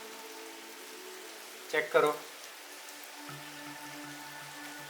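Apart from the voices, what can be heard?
rain falling outside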